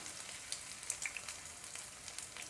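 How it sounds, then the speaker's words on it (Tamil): Potatoes crisping in hot oil give a steady, close sizzle with scattered bright pops and crackles throughout, with no talking. "சும்மா எண்ணெயில் கிறிஸ்பிக்காக வைக்கிறது"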